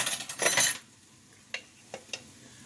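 A metal spoon scoops homemade green basil sauce from a jar, starting with a brief scraping rustle and followed by three sharp, separate clinks against the glass. The sounds are close and fairly quiet.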